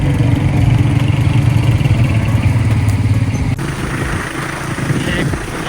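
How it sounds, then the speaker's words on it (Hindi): A motorcycle rides along a road with a steady, close engine drone, the pitch shifting slightly partway through as the ride continues. "ये बाइक दूसरी आगे चल रही है और एक आगे निकल गई है।"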